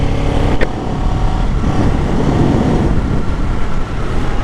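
A 2024 Kawasaki Ninja 7 Hybrid ABS motorcycle runs loud and close, its engine droning steadily with a rough surge and dip as it shifts gears clumsily.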